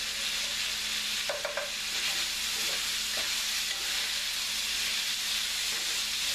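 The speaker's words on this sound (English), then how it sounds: "my corn, if you can't tell, is starting to boil here" Corn boiling in a pot on a stovetop gives a steady bubbling hiss that fills the clip, with a few brief clinks and stirring knocks near the start and no talk.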